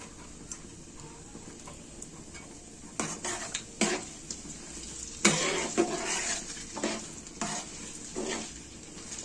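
Herbal hair oil ingredients, including mint leaves, stirred in a pan with a utensil, producing scraping, clinking strokes over a faint sizzle that grow louder and busier midway, with several sharper knocks.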